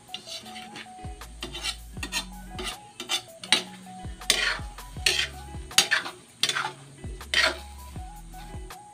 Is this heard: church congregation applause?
no